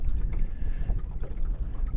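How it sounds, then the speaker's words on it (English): Wind gusts buffet a Drascombe Lugger sailing boat on the Irish Sea, a steady low rumble of wind noise and water against the hull running continuously without talk. "There's a breeze, little gust."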